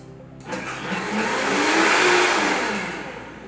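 A blender blending herbs kicks on and whirs, building to a loud, steady roar before easing slightly as it keeps blending.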